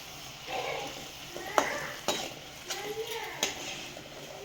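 French fries bajji fry in oil over a low flame, a quiet steady sizzle broken by a few sharp clinks and scrapes of a utensil against the pan.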